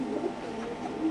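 Pigeons at a pigeon farm give soft, low cooing, faint and continuous over a brief stretch, with no voices.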